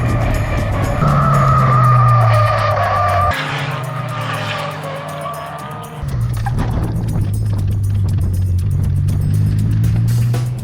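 A K-swapped Honda Civic on a race track brakes late into turn one, its engine droning under load, then tires squeal and skid loudly as it comes in too hot, a brief lull before the engine note rises again.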